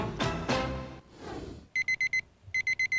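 An alarm clock rings in a TV commercial, two bursts of four sharp, loud electronic beeps after a brief musical sting, with a short pause between the groups.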